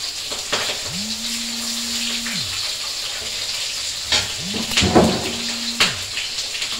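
Spices temper in hot oil for a bottle gourd curry with rohu fish head, crackling in a steady sizzle broken by sharp clinks and scrapes of stirring, with a low tonal hum rising and falling twice.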